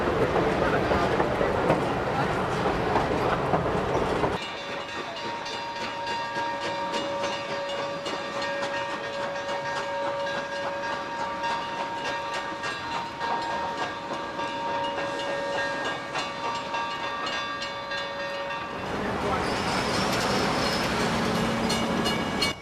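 A Grand Canyon Railway passenger train rolls along its rails with a continuous rumble, hiss and rhythmic clatter, loud and close, holding steady for about twenty seconds.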